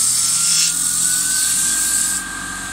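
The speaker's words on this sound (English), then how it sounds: "just going to do some sanding with some 240 sandpaper, 240 grit" Sandpaper of 240 grit rubs against spinning wood on a lathe, a steady close hiss with a thin whine running through it, continuous for a few seconds and easing slightly near the end.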